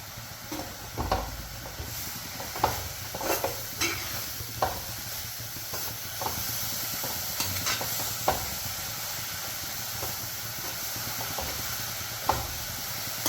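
Pumpkin leaves stir-fry in a pan with turmeric and raw coconut oil, giving a steady close sizzle broken by repeated scraping stirs throughout, with no voices.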